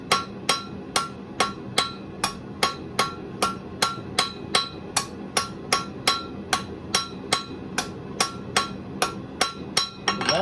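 Light, evenly spaced hammer blows on hot steel at an anvil while a point is forged, about twenty sharp ringing strikes in a steady rhythm, close and clear.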